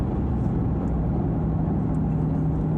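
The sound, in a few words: Maserati Quattroporte engine revving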